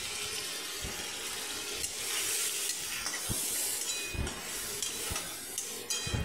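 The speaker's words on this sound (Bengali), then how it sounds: "ভালো করে কষিয়ে নিচ্ছি মশলাটা" Spice paste of ground cumin and dried red chilli with turmeric and salt cooking in hot ghee, giving a continuous soft sizzle with scraping stirs and occasional clinks, fairly quiet and without talk.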